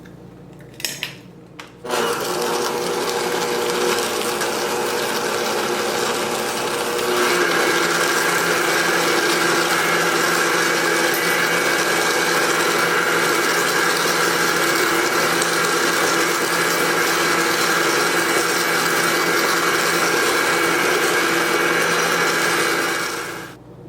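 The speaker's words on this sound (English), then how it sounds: "then you're gonna mix it in a medium speed" An electric mixer on medium speed beats eggs into lemon berry muffin batter, whirring steadily and loudly for about twenty seconds after a short start, its motor pitch rising slightly partway through, then stopping.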